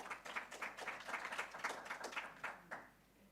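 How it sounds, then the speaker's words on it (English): At a Bank Gaborone roundtable event, the audience gives a short burst of applause, with distinct rhythmic claps that fade out toward the end, quiet and somewhat distant. "Please, a round of applause for yourselves."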